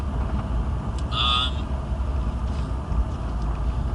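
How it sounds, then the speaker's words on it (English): Steady low rumble of road noise and exhaust drone from inside a cheap used car with a loud, worn exhaust, continuous at moderate level, with a brief higher-pitched tone near the start and no talk. "The exhaust is definitely on its way out. It's a bit louder than it probably should be."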